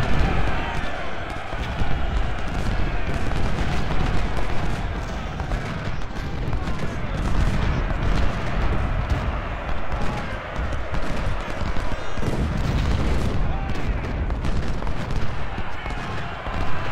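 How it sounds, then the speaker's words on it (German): Cannon artillery fires in a Civil War battle at Gettysburg in the video game Ultimate General: Civil War, with dense, continuous booms and gunfire throughout, under someone talking. "mit den Kanonen können wir mal zentrales Feuer auf Union machen"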